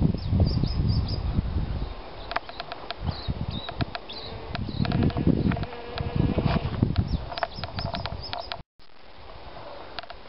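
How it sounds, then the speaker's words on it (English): A bee buzzes steadily among the flowers of a golden-leaved black locust tree outdoors, a continuous close insect drone with rustling and scattered background sounds. "There's a bee enjoying the flowers."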